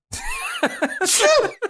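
A single close sneeze bursts out loudly indoors, with short vocal sounds just before it and a small exhale afterward.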